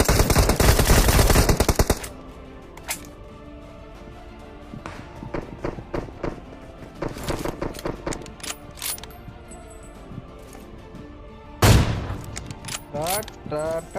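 Gunfire in PUBG Mobile on the Miramar map: an opening burst of rapid automatic fire, then scattered single shots and short volleys with mechanical clicks, another loud burst late on.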